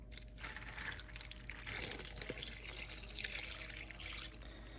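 Water pours into a crock pot of beef stew, a faint, steady splashing trickle heard close by and alone for several seconds.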